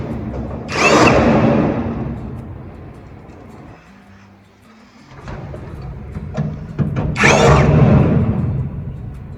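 A power drill drives bolts while a two-door wardrobe is assembled: two loud, close whirring bursts, one near the start and one near the end, with quieter handling noise in between.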